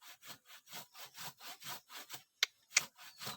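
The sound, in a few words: hand saw cutting wood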